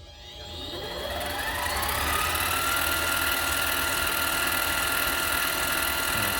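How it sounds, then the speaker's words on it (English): A Harbor Freight mini lathe spins up from rest, its whine rising in pitch and then holding at a steady, moderately loud running drone with a faint mechanical hum, with no voices. "I'm gonna load it back in the lathe. I'm gonna take a couple thousands more."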